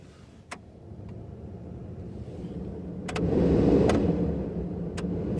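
A 2001 Dodge Ram 1500 engine turns over and runs at idle, a steady low rumble with clicks near the start and a brief swell in loudness midway, no talking.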